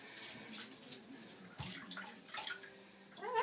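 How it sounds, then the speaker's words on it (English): An Amazon green parrot splashes in warm water at a sink or tub, soft irregular splashing and dripping close but quiet, with no talking. "See, Fritz, it's nice warm water."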